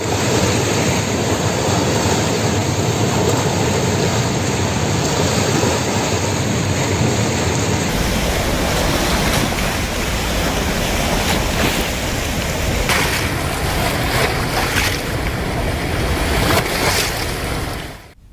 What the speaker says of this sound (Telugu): ప్రాజెక్టు 12 గేట్లను ఎత్తి నీటిని దిగువనున్న శ్రీశైలం ప్రాజెక్టుకు విడుదల చేస్తున్నారు